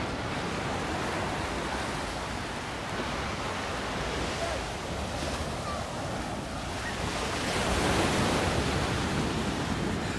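Steady, roaring surf at Scarborough Beach, Australia, with waves breaking continuously and wind buffeting the microphone, loud and unbroken throughout.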